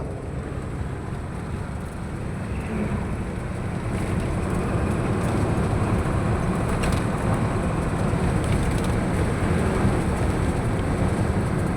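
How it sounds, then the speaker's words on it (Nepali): Strong wind blowing across the Batase Danda hilltop in Nepal, a steady, loud roaring rush that swells slightly partway through and continues without a break. "कस्तो डेन्जर हावा चलेको हेर।"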